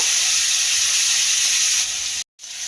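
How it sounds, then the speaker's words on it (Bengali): Chopped tomato frying in a pan of hot oil over well-fried whole-spice tempering, a loud, steady close-up sizzle that cuts out briefly near the end before resuming. "টমেটোটা দিয়ে দিলাম, দিয়ে একটু ভেজে নেব।"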